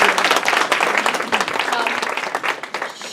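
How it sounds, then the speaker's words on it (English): A workshop audience claps for a woman being thanked from the podium, sharp individual hand claps forming a lively, slightly uneven burst that stays loud and close throughout. "please give her a round of applause"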